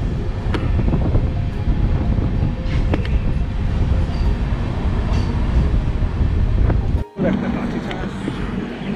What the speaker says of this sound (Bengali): ট্রেন থেমে গেছে গিধনিতে।